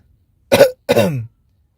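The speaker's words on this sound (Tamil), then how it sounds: "பாருங்க, இருமல் சத்தம் கூட கேட்குது." Two short, sharp coughs in quick succession, close and fairly loud, with silence around them.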